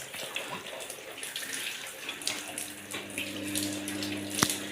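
Water runs steadily from a hose or tap while a bicycle is washed, a continuous splashing hiss with a few brief knocks and clatters, close and moderately loud, no talking.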